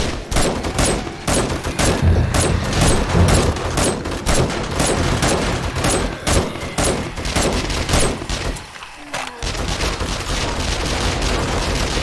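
Shotgun blasts aimed at zombies during a horde night in a survival video game, a dense, loud and continuous barrage of overlapping gunfire and impacts with only a brief dip in the middle.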